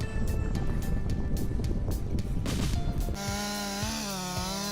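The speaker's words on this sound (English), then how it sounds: "take a look at this guy's chainsaw skills" Chainsaw engine whining loudly as it cuts through a tree during forestry work, a steady high-revving buzz for about three seconds before dropping to a lower, wavering idle.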